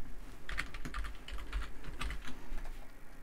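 Brisk typing on a computer keyboard, a steady run of soft close clicks and taps with short pauses, heard alone without any talk.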